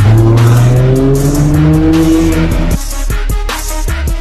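A McLaren Senna supercar on the streets of Monaco roars loudly nearby, its engine climbing in pitch with a tire squeal, then dropping into a crackling, popping rhythm as it moves off.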